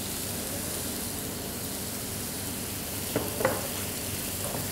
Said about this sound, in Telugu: ఉల్లిపాయలు మరీ బ్రౌన్ అట్లా అవ్వాల్సిన అవసరం ఏం లేదు, కొంచెం ఫ్రై అవుతే చాలు.